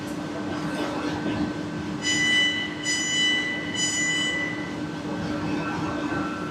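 A South Western Railway train at a platform in Basingstoke station, with a steady rumble and hum, a few squealing wheel or brake tones in the middle, and background station ambience.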